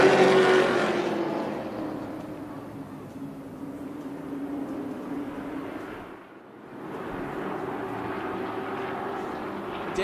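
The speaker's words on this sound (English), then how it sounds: "Trucks building momentum through 3 and 4," Race trucks at Tucson Speedway roar through the turns in a steady, continuous engine drone heard from trackside, dipping briefly before swelling again.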